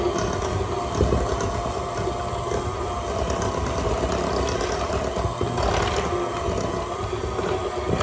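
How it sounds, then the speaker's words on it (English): An electric hand mixer runs on low, blending peanut butter and sweetener, with a steady close motor whir and a gritty churning rumble that continues throughout. "So let's get my friend the hand mixer out for this one."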